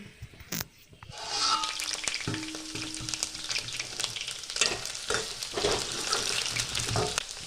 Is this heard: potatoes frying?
yes